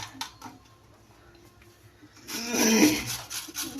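Potatoes and onions rubbed against a hand grater for fish pakoda batter: a rough, rasping scrape builds in the second half, loud and close, after quieter faint scratching.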